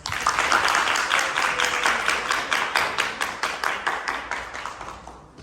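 An audience applauds to welcome a guest speaker at an event: a full, loud burst of many hands that settles into slower, rhythmic unison clapping before fading out.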